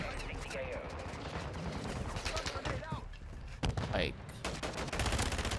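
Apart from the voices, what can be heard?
gunfire from FR Avancer rifle, Modern Warfare 2 video game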